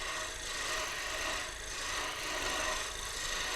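A bevel lathe tool cutting turning wood, a faint steady scraping hiss with gentle rhythmic swells as the edge rides the spinning workpiece, with no talking.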